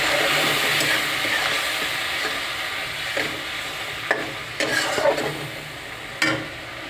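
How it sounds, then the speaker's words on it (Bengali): A spice mix sizzles as it is sautéed in a pan, making a loud, continuous hiss with a few brief scraping stirs near the end. "অল্প একটু জল ঢেলে তা কষিয়ে নেব।"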